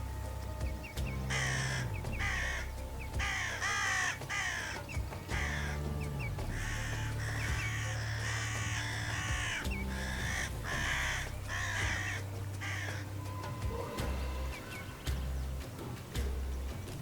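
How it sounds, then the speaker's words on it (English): Ravens in the Alaskan wilderness give repeated harsh, croaking caws in uneven bursts, some overlapping, carrying over steady background ambience for a long stretch. "The raven is more than just a bird here."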